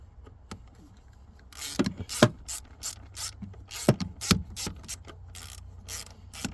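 A ratchet tightens 10mm bolts on the EGR of a 2012 Ram 3500 with the 6.7 engine; bursts of rapid close clicking come in short irregular runs, with quiet gaps between them.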